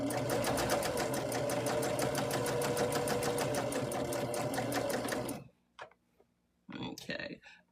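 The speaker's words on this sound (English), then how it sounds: "I'm just chain piecing them because it's easier to chain piece like a factory style than it is to do each individual one" A sewing machine chain-pieces placemat fabric in a steady, rapid stitching run for about five seconds, then stops; a few brief handling noises follow.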